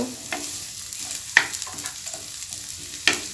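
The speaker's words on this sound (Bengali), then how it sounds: "এই পেঁয়াজের কুচিটাকে হালকা একটু লালচে কালার করে ভেজে নেব" About a tablespoon of chopped onion fries in hot oil in a pan for a potato omelette. A steady close sizzle runs throughout, broken by a few sharp scrapes and knocks as the onion is stirred.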